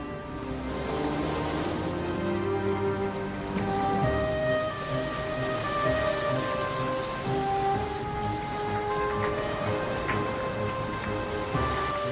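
Heavy rain pours down steadily in a dense, even hiss of drops hitting the ground, evoking the flood covering the earth, with a soft musical score sustained over it throughout.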